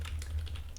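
A few soft keystrokes tap on a computer keyboard, quiet, quick clicks close by over a low steady hum, with no voices.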